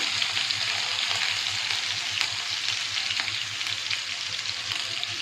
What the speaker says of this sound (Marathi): तेल गरम झाले जिरं टाकते हे बघा थोडंसं हिंग टाकते लसूण टाकते